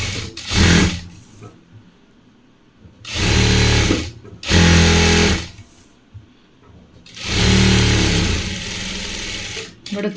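A sewing machine stitches a pillow cover in several loud bursts of whirring, steady running separated by short pauses while the fabric is turned.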